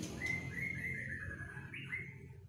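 A two-and-a-half-month-old male Nias bird gives a thin, clear whistled chirp, a rising and sliding call repeated a couple of times, close by and fairly quiet over a low background hum.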